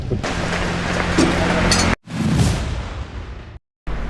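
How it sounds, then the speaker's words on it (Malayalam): Steady heavy monsoon rain, loud and close, a continuous broadband hiss that cuts out abruptly twice, with brief low rumbling gusts and no speech. "നാട്ടിലിങ്ങനെ മഴ പെയ്തുകൊണ്ടിരിക്കുകയാണ്"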